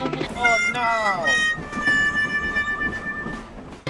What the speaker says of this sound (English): Two trains are stuck in the middle of the track.